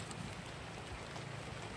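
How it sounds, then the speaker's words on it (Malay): Steady rain falls outdoors, a dense continuous hiss of drops on surfaces with a faint low rumble, constant in level and unbroken by voices. "Hari hujan eh."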